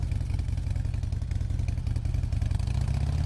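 Motorcycle engine chugging steadily up close, with a low, even rumble and slight clatter throughout.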